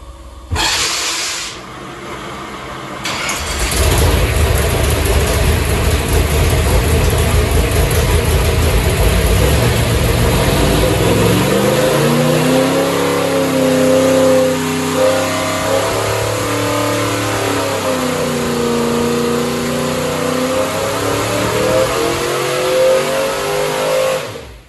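A Ford 445 FE V8 race engine with MSD ignition fires up and makes a loud dyno pull toward 6,000 RPM, climbing and falling in a rising, wavering roar that fills the clip, with no talk.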